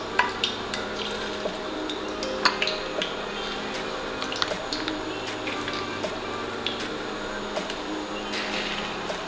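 Battered pickles fry in hot oil, a steady soft sizzling hiss with scattered small pops and crackles throughout, heard close up without any talking.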